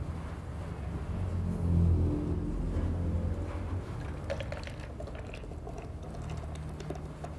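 An ice cream churning machine runs with a herbal ice cream mix inside, giving a continuous low rumble with soft patter and sloshing that holds steady throughout, with no talk.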